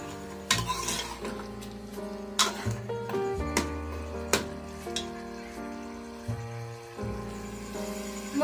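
Mutton stirred and fried in a pot, a spoon clattering and scraping against the metal in irregular knocks over a steady tonal background hum, with faint frying underneath.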